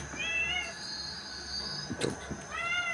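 A cat indoors meows in short, repeated, high-pitched cries at the start and end, with a few thumps and soft background noise in between.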